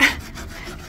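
A bolt being filed down by hand to stand in as a replacement screw for a handle that rattled off, heard as a short, close rasping scrape that is loud at first and then eases off.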